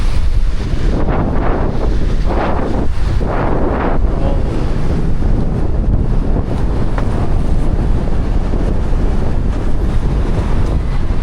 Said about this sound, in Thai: ฟ้าเสียงลมพัด